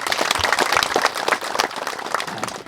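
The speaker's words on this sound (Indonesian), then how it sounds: "Tepuk tangan dulu." Crowd applause at a community gathering during the rice harvest in Bila, a loud burst of close, uneven hand clapping running throughout.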